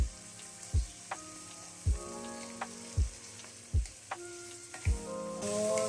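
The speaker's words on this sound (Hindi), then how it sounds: "ये शवारमे के लिए हमने गोश्त जो मैरिनेट किया था उसको अब हम फ्राई कर रहे हैं।" Marinated chicken for shawarma fries in a pan with a constant close sizzle, punctuated by about six sharp, regular knocks of a utensil against the pan.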